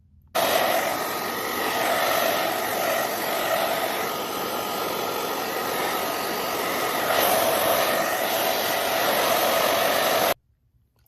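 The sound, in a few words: hair dryer drying watercolor painting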